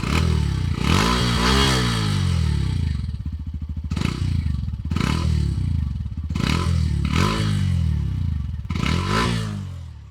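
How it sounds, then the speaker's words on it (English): Hero Glamour X 125, a 125cc motorcycle, revved repeatedly at close range, its bassy exhaust rising and falling in several sharp bursts separated by lumpy idle. "that brings me to the exhaust note of this motorcycle, which is quite bassy for a 125cc motorcycle"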